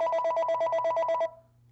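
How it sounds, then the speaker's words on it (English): A telephone ringing with a rapid electronic trill of about a dozen pulses, loud and close, stopping abruptly and leaving a faint low hum behind. "Sorry for the phone call there."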